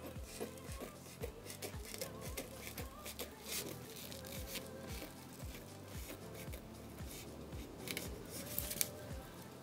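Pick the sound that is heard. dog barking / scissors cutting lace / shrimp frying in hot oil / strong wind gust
scissors cutting lace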